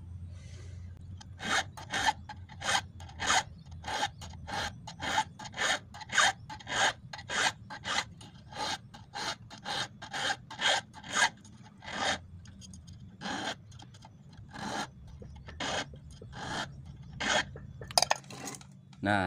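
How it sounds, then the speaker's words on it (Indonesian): A small triangular file rasps against a fish hook being shaped for eels, in a run of short, scratchy strokes at a fairly even rhythm with a few brief pauses, close and clear. "kita gunakan kikir segitiga kecil ini nih"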